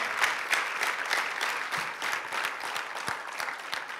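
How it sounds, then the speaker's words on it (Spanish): Church congregation applauding steadily throughout, a dense sustained clapping crowd with no voices standing out. "dale un aplauso al Señor."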